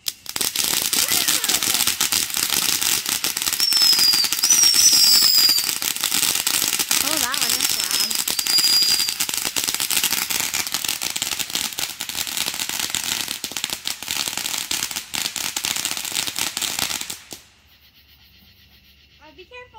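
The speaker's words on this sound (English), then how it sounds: "Fireworks." Fireworks and firecrackers going off outdoors in July, a dense run of sharp crackling pops and bangs lasting most of the stretch before cutting to near silence; people call out between the bursts.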